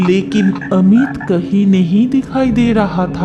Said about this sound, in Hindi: एक बगुला और मेंढक की आवाज आ रही थी